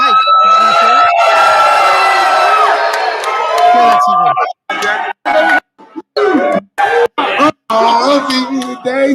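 Crowd at a live event cheering and shouting loudly in a big sustained roar, with voices rising out of the noise, then breaking into choppy, interrupted bursts.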